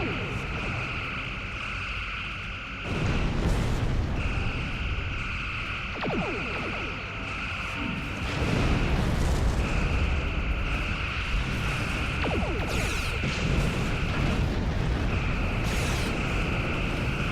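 Torpedo spread detonations during a Star Trek Online starship battle, heavy booming bursts around three, eight and eleven seconds over a steady droning ship hum and sustained tones, with a voice speaking.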